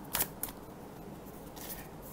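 Tarot card deck being riffle shuffled, a quick papery burst of flicking cards followed by a second shorter ripple and a later soft shuffle, close and quiet with no voices.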